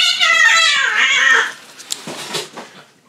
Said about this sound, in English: That's cats for you.